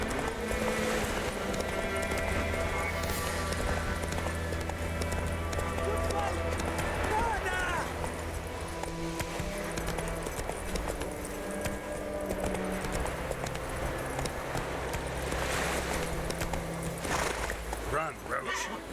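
Roach, the horse in the video game The Witcher 3: Wild Hunt, gallops with rhythmic hoof clip-clops over music for about nineteen seconds, and talking runs across it.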